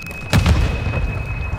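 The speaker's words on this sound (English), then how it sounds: "I got him with the grenade and flash" A grenade explodes in Call of Duty: Modern Warfare 2 with one loud, deep boom. A rumbling tail fades beneath a steady high tone.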